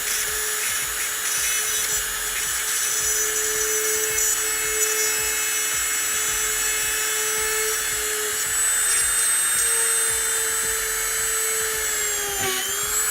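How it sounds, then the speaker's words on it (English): A small hand drill whines at high pitch, boring a small hole in a model build steadily with slight shifts in tone near the end, close and loud with no talking. "I'm trying to drill a little hole in here because I can glue these in"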